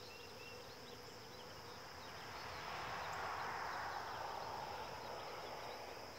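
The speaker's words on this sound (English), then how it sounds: "Bees are working pretty good today." Faint, steady buzzing of many honey bees at mating nucs, a soft continuous drone that swells slightly midway with occasional insects passing close.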